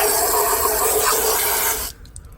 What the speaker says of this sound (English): Of course I'll rinse it off.